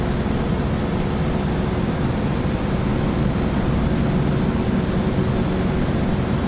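A steady, loud engine roar fills a takeoff run in a World War II fighter plane in Microsoft Flight Simulator 2024, holding a constant drone throughout.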